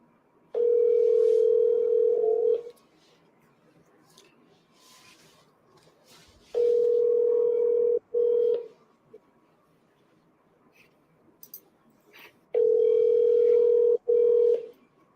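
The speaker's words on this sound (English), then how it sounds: "We're in sync right now with these dial tones." Three long steady telephone dial tones during a live call session, each lasting about two seconds with gaps of near silence between them, clear and close with no talking over them.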